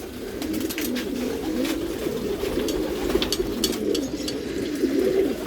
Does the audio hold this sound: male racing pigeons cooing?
yes